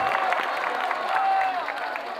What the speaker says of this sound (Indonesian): Tepuk tangan untuk Banser Taiwan.